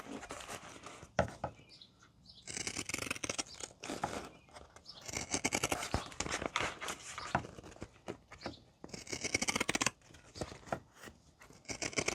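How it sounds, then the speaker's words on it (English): Pinking shears trim down a fabric seam in a sewing job, giving repeated crisp snipping and chopping bursts in uneven clusters, fairly close and quiet, with no talk. "I like using my pinking shears to trim the seam down"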